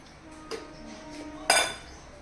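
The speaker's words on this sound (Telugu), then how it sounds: "స్టవ్ వెలిగించుకొని చిన్న బాండీ పెట్టుకోవాలి" Small pan set down on a stove, with two quick metallic clinks, the second louder, in a quiet kitchen.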